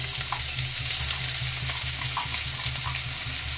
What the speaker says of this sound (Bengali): এবার পেঁয়াজগুলোকে একটু ভেজে নেব।